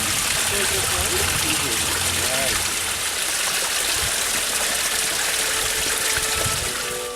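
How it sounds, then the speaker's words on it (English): Steady water flowing and dripping beneath a sandstone overhang at Weeping Rock, a seep-fed hanging garden, with a continuous close splashing wash throughout and some low talk mixed in. "it has created an overhang for us to get underneath as water drips around us."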